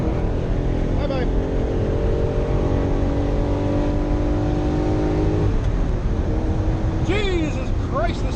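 A Ferrari Testarossa engine revs hard on a redline run, its loud, close drone climbing steadily in pitch through the gears, with quick shift breaks and a fresh surge of acceleration near the end.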